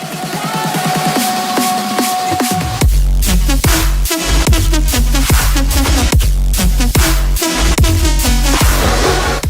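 Heavy, distorted synth bass driving a loud electronic track, kicking in hard after a brief buildup, pulsing rhythmically with drums throughout.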